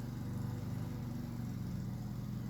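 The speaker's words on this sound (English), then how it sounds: "Can you hear that lawnmower in the background?" A lawnmower engine drones steadily in the background throughout, a low, even, continuous hum with no pauses.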